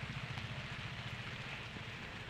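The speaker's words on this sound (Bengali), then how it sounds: "দেখো কি অবস্থা বৃষ্টিতে।" Rain falling across a plant nursery, a dense steady patter on surfaces with a low rumbling wash underneath, constant and enveloping, with no voices.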